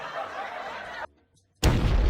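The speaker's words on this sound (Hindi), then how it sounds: "अब चलो पटाखा बन गया है, इसका ट्रायल लेते हैं।" A homemade firecracker bursts during a trial after a stretch of near silence, giving one sudden loud blast that follows earlier steady noise.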